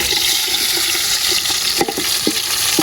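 Onions and curry leaves sauté in hot oil while a spoon stirs them, giving a dense steady sizzle with a few scraping knocks near the end, close and loud.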